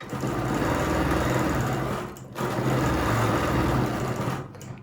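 A sewing machine runs steadily while stitching straight center lines across a quilt for a star design, a continuous close motor whir with one brief pause midway before resuming.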